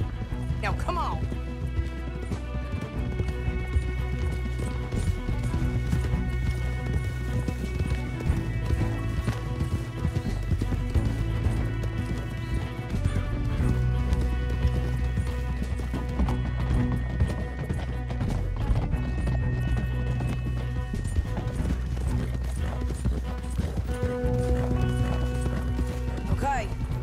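Horses gallop in Red Dead Redemption 2, a continuous drumming of hooves under steady game music and intermittent dialogue, with occasional louder thuds.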